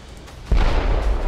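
A heavy naval cruiser gun blast and shell impact from Ultimate Admirals: Dreadnoughts, a single deep booming hit after a quieter rumbling lead-in, sustained low rumble afterward.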